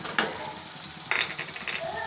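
Onions and spices fry in a pan while cooking cauliflower, a steady sizzle under a few louder bursts of stirring and utensil scraping.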